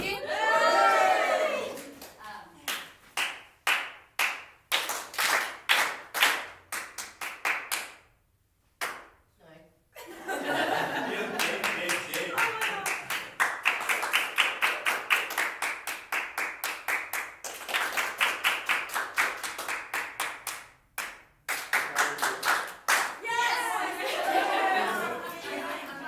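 A group claps rhythmic patterns together during the Poison Rhythm game at a music engagement session, with sharp bursts of clapping broken by short pauses and a longer silence, plus some crowd noise.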